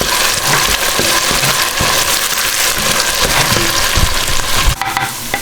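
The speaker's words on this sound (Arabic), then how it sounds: "فهسه هنا انا حمست البصل على مود اسوي برغل، وجبت بازاليا بعد راح اخلي وياه" Onions and peas for bulgur fry in a pan with a loud, steady sizzle and crackle, with occasional stirring scrapes throughout and no talk.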